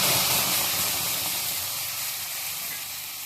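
Tomato tipped into a hot pan for a homemade veg pizza sauce gives a loud, steady sizzle and hiss that eases slightly as it settles.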